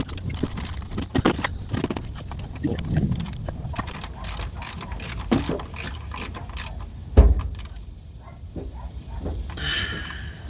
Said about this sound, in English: then you can finish tightening up this 14 millimeters down here